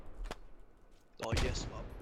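A grenade launcher fires in the video game Squad: a faint thump early on, then a louder, harsher launch burst with a lingering rumbling tail, all under low game ambience.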